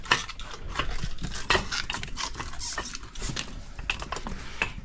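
A wrench clinks and ratchets against metal pipe while tightening a 90-degree fitting during the removal of a 330-gallon basement oil tank. The sound is a quick, irregular series of close metallic taps and scrapes.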